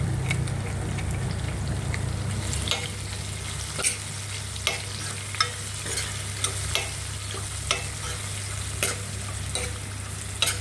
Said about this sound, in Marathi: याला थोडंसं आता मऊ येईपर्यंत परतून घ्यायचं 2 मिनटं.